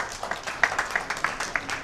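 An audience claps to welcome a guest onto the stage at a social welfare trust event, with uneven scattered hand claps close by across a brief stretch.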